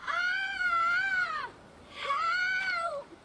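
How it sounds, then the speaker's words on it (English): An eerie, child-like wail in The Witcher 3: Wild Hunt, sounding as two drawn-out, wavering cries separated by a short pause and heard clearly with no talk over them. "Hear that? Sounds like a kid."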